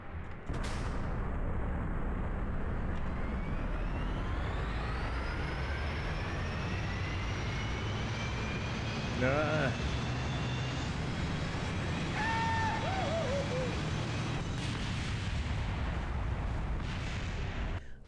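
Aircraft engines on a VTOL craft in the video game Kerbal Space Program roar without a break, a loud rumbling drone with rising whines and brief tonal warbles over the top, with no speech.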